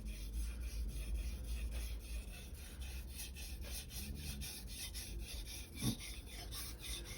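A knife is sharpened on a Naniwa 1000/3000 grit combination whetstone with a 70-30 bevel grind, giving steady rhythmic rasping strokes at close range, fairly quiet and continuous, with no talking.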